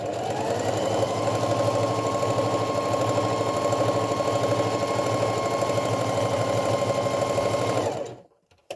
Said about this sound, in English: I'm going to do a little back stitch at the top